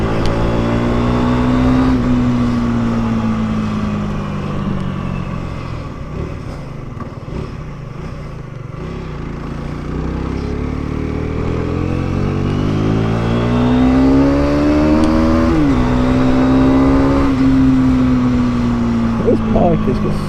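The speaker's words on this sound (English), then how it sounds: "This bike has got so much poke off the line, I love it." An Aprilia 125cc motorcycle engine drones steadily, dipping, then rising in pitch through several gear changes as it accelerates, loud and close, with someone talking over it.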